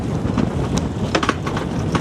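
Strong, steady wind buffets the microphone throughout while a sailboat is docked under sail in rough conditions, a broadband rushing roar with brief gusty peaks and no speech.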